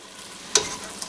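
Ground meat browns in a hot pan for a homemade pasta sauce, giving a soft, steady sizzle with one sharp stir or scrape partway through.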